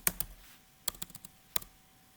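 Keys on a computer keyboard are typed in short, quiet bursts of close clicking taps with brief pauses between words.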